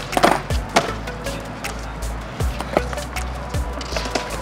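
A skateboard rolls and clacks as a beginner stands on it and tries it out, with wheels rumbling and wooden knocks from the board at close range. Voices are faint in the background.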